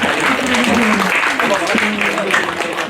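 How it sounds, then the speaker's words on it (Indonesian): Audience applause at a public discussion forum, a dense burst of clapping close by that carries through the whole moment, with voices mixed in underneath. "Bisa tepuk tangan untuk Mas Ari"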